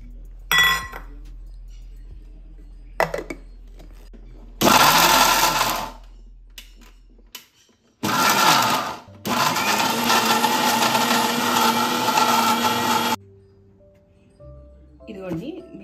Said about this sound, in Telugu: ఇప్పుడు ఇది వేసేసుకొని మిక్సీ పట్టేసుకుంటాం.